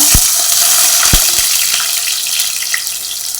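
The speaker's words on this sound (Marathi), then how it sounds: "तेलही गरम झालं आहे आता यामध्ये आपण कांदा" Onion drops into hot oil in a heated pot for an Agri-style crab curry, giving a loud, continuous sizzling hiss with a few low thumps at the start.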